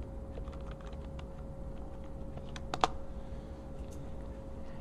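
Quiet, sparse key taps on a computer keyboard, with a slightly louder cluster of clicks in the middle over a faint steady hum.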